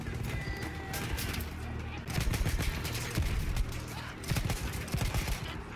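Gunfire in a shooter video game, heard as rapid, loud bursts of shots that repeat in clusters over steady battle noise.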